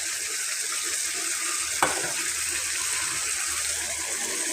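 Spice paste for a rohu fish curry sautés in a pan with a steady, close hiss, broken by one brief scrape or clink of the spoon partway through.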